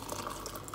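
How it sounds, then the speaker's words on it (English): Tea poured from a pot into a cup in the evening: a steady, close liquid trickle running the whole moment at low level, with no talking. "I will pour some evening peace tea for me"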